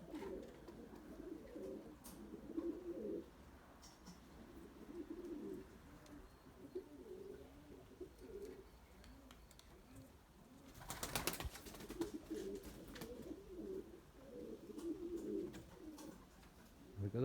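Soft, low pigeon coos repeat in bursts throughout, with a brief loud rustle or flutter near the middle.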